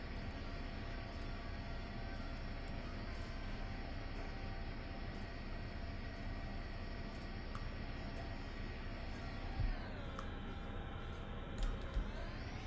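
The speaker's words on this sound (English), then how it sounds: "I'm taxiing very fast, but I just kind of gotta get to the runway as soon as" An airplane taxiing fast toward the runway in the Roblox game Car Dealership Tycoon: a steady, loud engine drone that holds constant and then shifts slightly in tone near the end, with a couple of small bumps.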